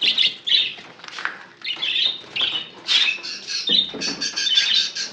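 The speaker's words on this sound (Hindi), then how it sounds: "ये देखो मैंगो पैरेट तो सबसे पहले आया है" Mango parrot squawking while eating seed, a rapid series of harsh, raspy squawks and chattering calls, close and fairly loud, with brief gaps between bursts.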